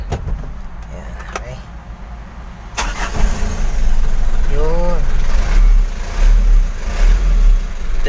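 A manual-transmission car with a noisy transmission when the clutch pedal is pressed, its engine starting and then settling into a steady, loud idle, with faint voices underneath.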